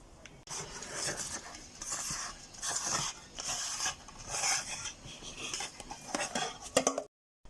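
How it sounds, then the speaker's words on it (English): A knife slicing steamed taro cake into small pieces, giving a steady series of close scraping, rasping cuts in rhythmic bursts with no voices. "We will cut it in small pieces and give it some fry."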